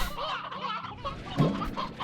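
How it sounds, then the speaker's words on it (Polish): Elder Hen, an old chicken in the video game Slime Rancher, clucks in a few short throaty bursts close up, with busy game sounds around it and a sharper squawk near the end. "Elder Hen. Co to jest? Jakaś stara kura."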